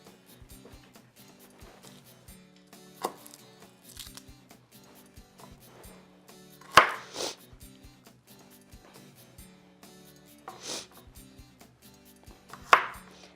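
A knife chops a large garlic clove into big chunks on a cutting board, giving sparse, close, crisp taps with a few sharp louder strikes and no talking.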